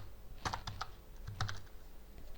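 A computer keyboard is typed on while entering a formula in Excel, heard as two quick clusters of soft, close keystrokes under a quiet background.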